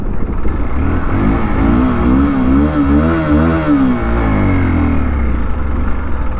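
A motorcycle engine with poor pickup revs and strains in an uneven, wavering drone, its pitch rising and falling as the throttle is worked, loud and close with no talk.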